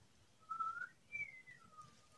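Inside a hut, someone whistles three drawn-out notes, faint and somewhat distant, each slowly sliding in pitch, with no talking.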